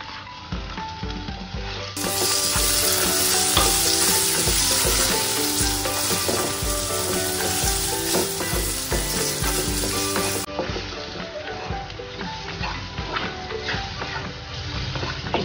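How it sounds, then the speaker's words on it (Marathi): Spices and chopped tomatoes fry in hot oil for dhaba-style dal methi, giving a loud, steady sizzle with a brighter burst in the middle and occasional stirring clinks, with no talking. "छान फ्राय करून घेऊया मसाले."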